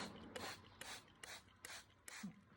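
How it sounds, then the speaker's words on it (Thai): A hand spray bottle mists plain water over jasmine cuttings in soil, giving five short, evenly spaced hissing bursts, faint and close, with no talking. "ก็สเปรย์ไป ให้รอบๆน้ำธรรมดานี่แหละค่ะ"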